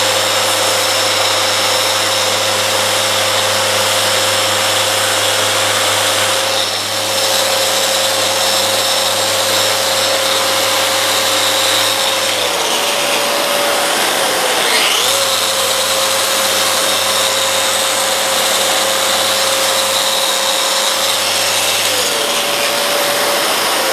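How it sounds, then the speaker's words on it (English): A Festool Rotex sander running in normal sanding mode on a carved wooden seat, a steady close whine with a sustained tone, briefly dipping in pitch twice as pressure changes, without speech. "I'm taking it out of the Rotex mode and putting it into the normal sanding mode"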